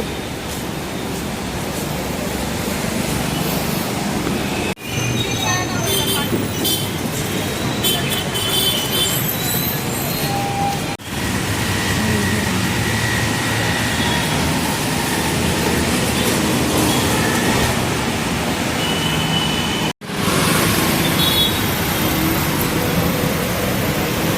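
Loud, steady rumble of a Pune metro train running near Nal Stop on Karve Road, with continuous wheel and track noise and a few brief dips, no voices.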